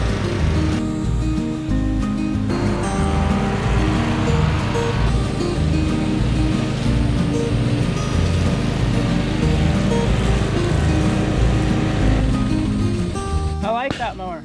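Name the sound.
Toro Timecutter Z4200 riding mower cutting grass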